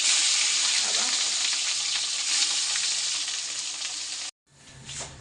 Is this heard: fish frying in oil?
yes